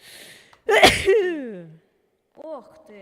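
A loud single sneeze bursts out during a cooperative horror game session, followed by a brief vocal trail, with a short spoken exclamation afterward.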